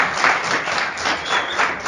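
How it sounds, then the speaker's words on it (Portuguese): An audience applauds a speaker at a talk, a brief burst of dense, steady clapping heard up close with no voices. "Uma salva de palmas para o Antônio"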